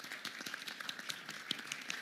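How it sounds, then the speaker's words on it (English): Audience applause for panelists at the close of a live-streamed session, a fairly faint, steady patter of many hands clapping at once. "please join me to give a big round of applause to our panelists here today"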